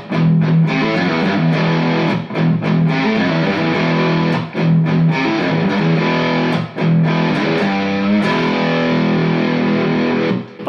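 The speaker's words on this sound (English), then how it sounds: "Now, if we go to some slightly higher gain tones" A hollow body double cutaway electric guitar plays loud, higher gain distorted chords and riffs up close, with short breaks between phrases and no talking.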